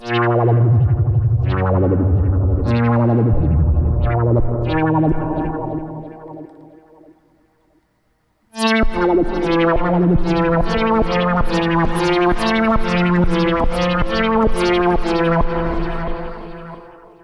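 Buzzy analog-style synthesizer tones from IK Multimedia Syntronik pulse in a rhythmic pattern, fade to near silence, then return as a denser, driving synth line with sharp repeated notes.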